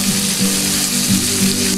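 Shrimp hiss and sizzle loudly in a hot pan while being deglazed with fish sauce, a dense continuous crackle with a low hum beneath, brief and close.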